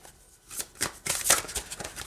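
A tarot deck being shuffled, a short riffling flutter of card stock that builds over about two seconds, close and fairly quiet.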